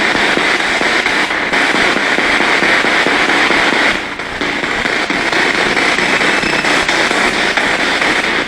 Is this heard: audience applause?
no